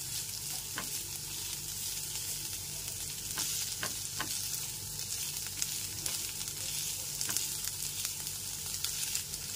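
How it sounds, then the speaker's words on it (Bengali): Chopped green beans and carrots fry lightly in a pan over a low-to-medium gas flame, giving a steady close sizzle with occasional sharp clicks and scrapes from stirring. "বিনসটাকেও গাজরের সাথে হালকা করে ভেজে নেব।"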